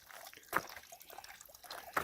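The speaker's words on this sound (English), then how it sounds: "there's water coming out of this little pipe and filling this trough" Spring water trickles from a small pipe into a trough at Cave Springs in Nevada's Spring Mountains, a soft, steady outdoor dribble with two brief louder splashes.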